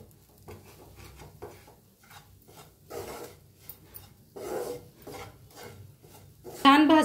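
Spatula scraping and stirring masala as it roasts in a pan for a bitter gourd dish, irregular rasping strokes and light metal taps, close and fairly quiet, ending in a louder clatter.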